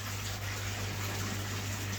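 Water pours steadily into a fish tank as it is topped up, a continuous even rushing and gushing that stays at the same level throughout, with no voices.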